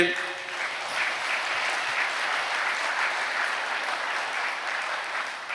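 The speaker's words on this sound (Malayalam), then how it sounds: "ഒന്ന് കൈ ഉയർത്തി കൈയടിച്ചേ" A church congregation claps hands together in sustained applause at a Catholic service, a steady dense wash of many palms filling the room from start to finish with no pause.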